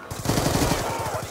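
A rapid burst of video game gunfire rattles out close and loud for about a second, a tight run of repeated shots, with no voice over it.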